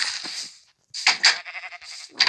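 Sheep bleating in the video game Minecraft, a few bright, clear bleats in quick succession separated by short silences, with no talk.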